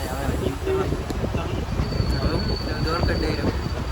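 A train rumbles and clatters as it pulls away from a railway station bound for Dwarka, with a long high squeal of wheels and people talking nearby over the noise.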